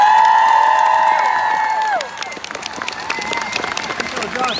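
An outdoor crowd at a Greta Thunberg rally in Iowa City gives sustained applause and cheering, heard over a loud held tonal cry that fades, after which the clapping carries on more loosely.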